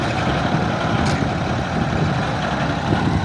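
A vibratory road roller, recently fixed after its roller was locked, runs and shakes the ground nearby, giving a loud, steady engine rumble with a dense, continuous vibrating drone throughout.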